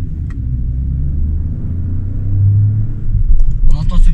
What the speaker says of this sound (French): On entend ce petit bruit sport là.